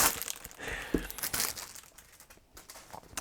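A thin plastic protective bag around a binder crinkles and rustles as it is handled, a close, dense run of crackling that is loudest at first and then thins out into scattered crinkles.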